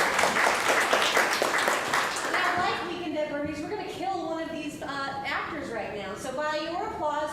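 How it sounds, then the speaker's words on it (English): A live improv comedy audience gives a short burst of clapping after a scene, then it fades into someone talking over scattered claps and crowd murmur. "Give her a round of applause"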